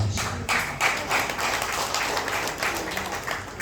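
An audience at a political speech gathering claps steadily, with sustained, moderately loud applause that fills the hall for several seconds.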